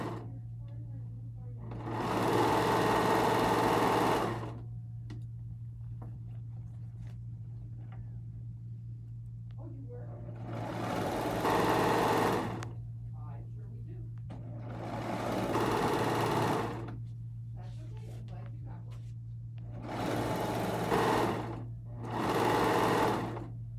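A serger stitches a twirly skirt made of cut fabric strips in bursts of loud, steady whirring, about five runs of two to four seconds each, separated by pauses filled with a low steady hum.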